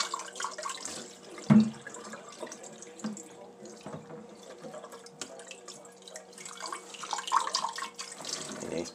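Tap water running into a jug holding beer-making measuring spoons, a close splashing and trickling stream with a few louder knocks and clinks of the utensils; no speech is heard.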